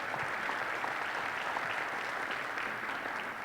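A college in-service audience gives a round of applause, a dense steady wash of many hands clapping from start to finish with no voices over it.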